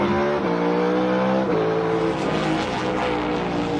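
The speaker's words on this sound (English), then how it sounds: "listen to the cars go through the gears and brake and stop and go" A NASCAR Cup Series race car engine roars nearby, its pitch dropping sharply with each gear change as the car brakes, a loud continuous mechanical drone.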